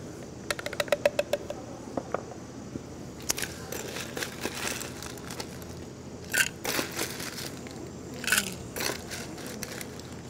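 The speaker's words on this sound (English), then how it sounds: "you're gonna add some ice." Ice cubes dropped into a cocktail glass for a triple melon vodka soda, heard as a quick run of small clinks followed by scattered crackles and crunches, close but quiet, with no talking.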